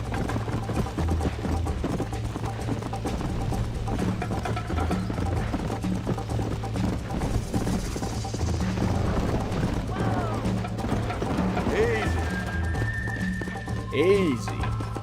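Hooves gallop in steady rhythm in the video game Red Dead Redemption, running continuously under game music and ambience, with a brief whinny and other effects near the end and voices over the top.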